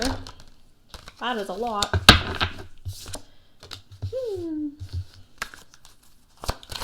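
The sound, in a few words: tarot cards being shuffled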